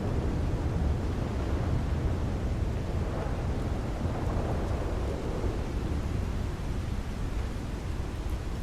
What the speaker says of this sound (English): So now we've got this pretty waterfall here, and it's making a lot of noise